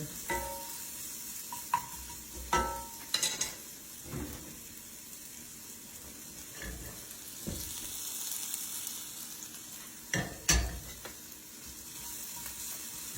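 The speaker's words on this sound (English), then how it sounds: "We'll let these saute up, and then I'll add the mushrooms." Sliced onions sauteing in a hot pan for steak fajita quesadillas, a steady soft sizzle broken by sharp clacks and scrapes of stirring.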